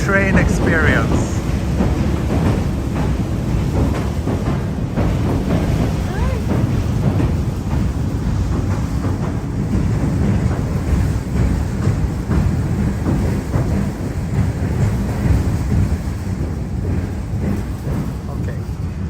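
A train rumbles steadily close by in Tokyo, a loud continuous low roar that fills the whole stretch with no break.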